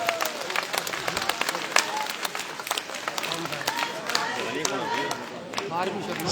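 Crowd at an election rally breaking into sustained, loud applause and clapping that fills the whole stretch, with scattered shouts and chatter mixed in.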